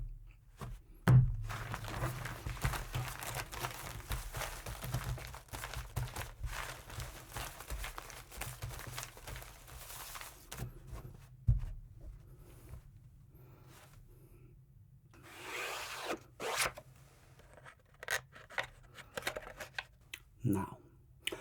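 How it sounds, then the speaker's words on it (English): A six-deck shoe of playing cards shuffled at a blackjack table, with soft riffles, thumps and card handling spread over time, close and quiet, with a voice talking at points. "We will be playing with a 6-deck shoe, and now it's time for me to shuffle."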